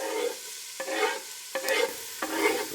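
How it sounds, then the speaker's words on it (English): Hot oil sizzles and crackles in a frying pan, swelling in several bursts as food is stirred, close and steady with no voices. "You want to hear that little sizzle when it pops in"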